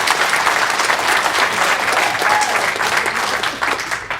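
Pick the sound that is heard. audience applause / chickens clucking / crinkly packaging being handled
audience applause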